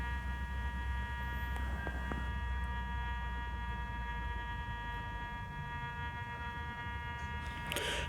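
Makro Gold Racer metal detector in an air test, giving a steady electronic tone with a low hum that holds for the whole stretch.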